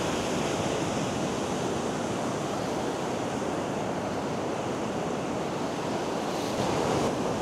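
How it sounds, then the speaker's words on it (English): Sea waves break and wash up on a beach below cliffs where surfers are out, a loud, constant roar of surf blended with wind buffeting the microphone, rolling on without pause and with no talking. "it's bloody lovely being out here by the sea."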